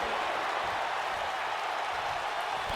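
A video-game wrestling crowd applauds in a WWE 2K arena set in San Antonio, a steady, dense wash of clapping and crowd noise held at even loudness throughout.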